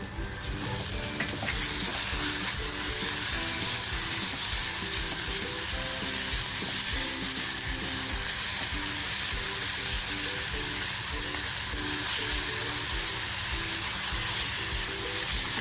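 Ginger, garlic and chili paste fries in a pan for a black pepper chicken masala, with loud continuous sizzling and crackling and occasional stirring scrapes, close and steady throughout.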